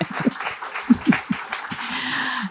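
A small audience at a writers' reading gives scattered, uneven clapping, a handful of distinct close claps followed by a brief murmur of voices.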